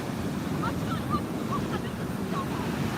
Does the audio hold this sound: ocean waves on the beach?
yes